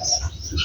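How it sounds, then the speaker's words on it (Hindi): A pigeon sitting on eggs in a nest among potted garden plants in Pakistan gives a brief, close call lasting under a second. "कबूतरी।"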